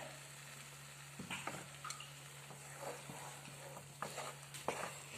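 Cashew paste made from 10-15 ground cashews goes into roasted masala, frying with a soft steady sizzle while a spoon stirs and taps the pan in scattered clicks and scrapes.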